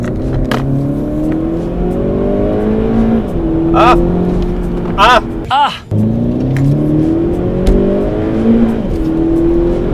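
A Volkswagen Polo GTI in sport mode accelerates hard through the gears from inside the cabin, its engine rising in pitch, dropping at a quick shift, then climbing again, with a brief exclamation from a person.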